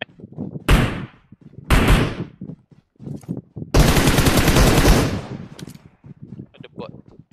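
Loud gunfire from computer-controlled bots in a shooter game comes in separate bursts, two short blasts and then a longer sustained volley, with quieter clicks and scattered sounds in between.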